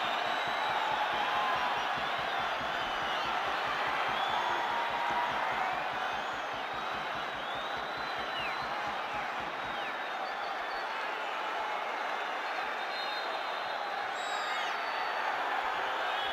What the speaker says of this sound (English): Crowd beseeching the referee to blow his whistle.